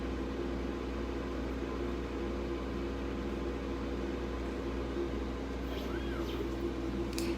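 A laser engraving machine at work on a wooden door sign gives a steady, low, fan-like hum with a constant hiss that runs unbroken throughout, with faint high chirps near the end.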